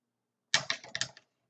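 A short burst of several quick snipping clicks, close and crisp, as scissors cut through a pipe cleaner, then silence.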